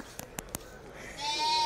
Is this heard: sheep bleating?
yes